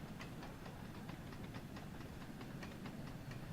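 Steam-hauled freight train rolling along in the Train Sim World 3 game on the Peak Forest Railway, with a steady rumbling engine bed and regular clickety-clack wheel beats throughout, moderately loud and without talk.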